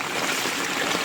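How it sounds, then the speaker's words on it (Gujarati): Heavy torrential rain pours down in Bhavnagar: a dense, steady, loud rushing hiss with no pauses, like a downpour flooding the ground and potholes nearby. "વરસાદ, ધોધમાર વરસાદ ભૂક્કા કાઢી રહ્યો છે."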